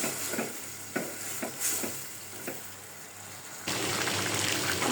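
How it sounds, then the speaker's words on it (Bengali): Fish sizzles in a hot pan while a spatula scrapes and stirs it in a few soft, irregular strokes, and the frying hiss then swells louder and steadier near the end. "আমি আগে মাছটা কষাইতেছি, মাছ কষানি হইলে লাউ দিয়ে দিব।"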